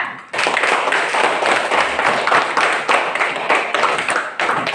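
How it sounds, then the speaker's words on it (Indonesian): A classroom of schoolchildren claps for a group, a dense burst of many hands that starts suddenly and keeps going with a busy, uneven rhythm. "Tepuk tangan dulu untuk kelompok 4."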